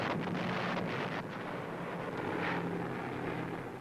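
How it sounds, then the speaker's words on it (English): American WWII bombers pass overhead in a dense, steady drone of piston engines, heard as a continuous distant roar with wind noise over it and no voices. "American bombers come over Ludwigslust in central Germany"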